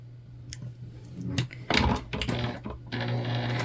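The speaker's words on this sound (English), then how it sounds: "We're sewing from top all the way down to the bottom." Sewing machine stitching thick, fluffy batted fabric for a bag, its motor running in short bursts with rapid mechanical clatter, close and fairly quiet.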